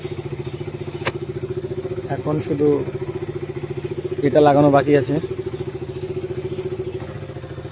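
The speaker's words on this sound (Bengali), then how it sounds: "বাইকটা স্টার্ট দিলাম, স্টার্ট দিয়ে রেখে দিলাম।" A KTM motorcycle engine idles steadily with a low, throbbing rumble throughout, while a person speaks briefly over it partway through.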